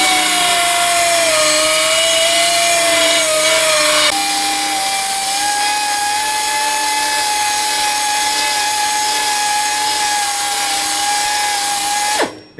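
A Dynabrade Auto File II 18100 pneumatic belt sander grinds down a weld on a metal panel with a loud, steady high-pitched whine that holds for about twelve seconds, then cuts off abruptly.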